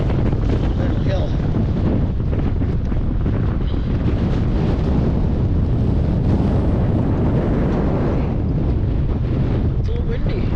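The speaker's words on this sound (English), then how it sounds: "It's a little windy." Strong wind roars steadily outdoors near a snowy basin, with loud low-frequency buffeting against the microphone throughout and no clear voices.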